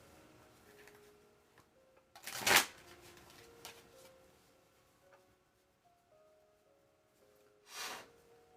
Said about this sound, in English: Warm these cards up. I tried shuffling with my Klimt cards today, and they are just slippery.